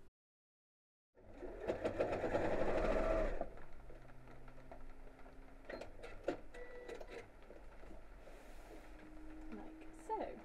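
A sewing machine stitches a hanging loop in place on a lined Christmas stocking, with a short, close burst of whirring early on, then quieter clicks and handling noises.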